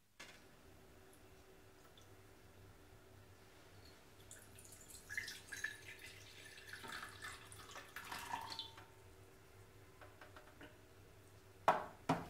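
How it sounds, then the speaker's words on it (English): Collected water from an EcoAir DDW122 desiccant dehumidifier is poured into a glass measuring jug, a faint, quiet trickle and splash in the middle of the clip, ending with a couple of sharp clinks. "If we pour this water into a measuring jug, we should get an accurate reading."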